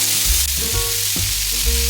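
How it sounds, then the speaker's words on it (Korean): Onions sizzle and crackle steadily in hot olive oil with minced garlic, with a few soft scraping stirs of a utensil against the pan. "양파를 노릇노릇하게 볶아줍니다."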